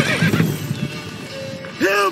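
Roach the horse from The Witcher 3 gives a loud, close whinny near the end, after hoof clip-clops and a voice speaking.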